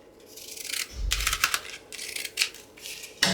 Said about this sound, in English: So I'm going to trim this down here.